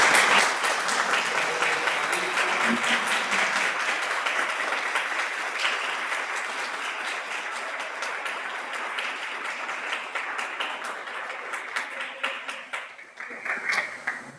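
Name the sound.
audience applause for two journalists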